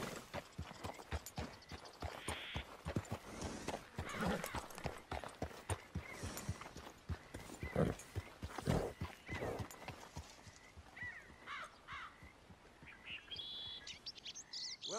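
Rhythmic horse hoofbeats in a video game clip-clop steadily up close near a stable, with a horse whinnying and birds chirping faintly in the background.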